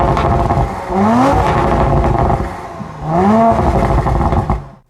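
An Audi RS5 Sportback with a 2.9-litre V6 turbo engine revs hard twice, each loud climb in pitch rising and falling back, with no talking over it.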